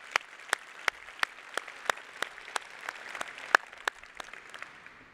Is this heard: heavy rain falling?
no